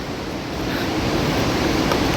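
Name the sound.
fast-flowing river water on the Kedarnath trek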